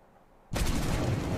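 A plane crashes in the video game Stranded Deep: a sudden loud booming impact after a quiet start, followed by a sustained roaring, rumbling blast.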